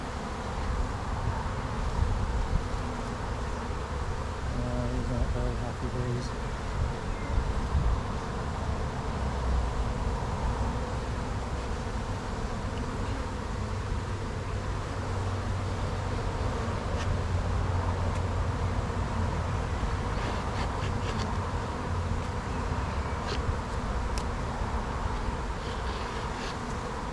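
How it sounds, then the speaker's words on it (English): Angry bees from an abandoned hive buzz in a dense, steady swarm close by, a continuous loud drone that carries on without pause, with no speech over it. "He's not very happy, bees."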